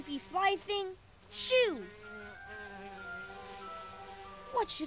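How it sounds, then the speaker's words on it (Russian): A large striped fly drones steadily at mid pitch for a few seconds between short bursts of speech. "Кыш, большая полосатая муха!"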